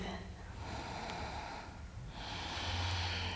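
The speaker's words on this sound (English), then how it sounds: "Inhale, reach the arms up to the sky, high lunge. Breathe." Steady breathing through a high lunge yoga pose, two long airy breaths with a brief dip between them, close and fairly loud over a faint low background hum.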